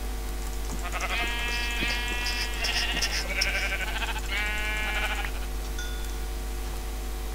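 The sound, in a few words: sheep bleating in Minecraft video game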